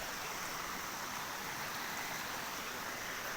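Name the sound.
mountain stream flowing like waterfalls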